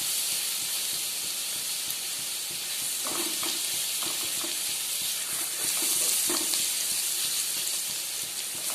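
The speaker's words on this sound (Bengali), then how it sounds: "রসুনটা হালকা ব্রাউন করে ভেজে নিয়ে তারপর যে আমি পেস্টটা করে রেখেছি ওটা দেব।" Garlic frying in a pan for paneer chana masala, a continuous hissing sizzle with occasional stirring clicks and scrapes, heard close and steady with no voices.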